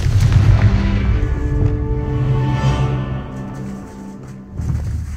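A Confringo blasting spell goes off in Hogwarts Legacy: a loud, deep explosive boom with rumbling, tonal ringing that slowly decays, then a second burst near the end.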